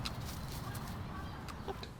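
Chickens kept as pets cluck softly in short scattered calls over a steady low background hum; faint and close, with no speech.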